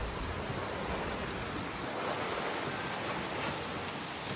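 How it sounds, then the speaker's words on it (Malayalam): Heavy rain pours down in Berlin in a dense, steady hiss, loud and unbroken throughout with no voices. "നല്ല മഴയുണ്ട് ഗൈസ്"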